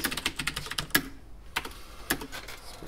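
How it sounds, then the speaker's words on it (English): Fingers typing on a computer keyboard during a committee meeting, a quick burst of close, crisp key clicks, a brief pause, then a few more scattered taps, with no talking. "I should be using this good keyboard,"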